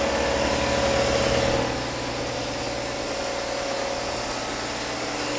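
An air compressor runs in a home machine shop, giving a steady, fairly loud mechanical drone with a low hum that eases slightly partway through. No one speaks.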